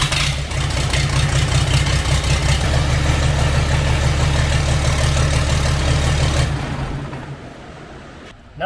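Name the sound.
Cummins diesel engine running in a Ford F350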